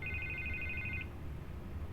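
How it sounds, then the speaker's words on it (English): A telephone rings with a rapid trilling electronic tone, one burst lasting about a second and a second ring beginning, over a low background rumble. "I can't get the phone to stop ringing."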